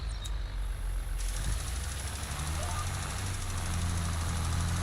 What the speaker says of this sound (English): I do like the sound of the John Deere tractors on here.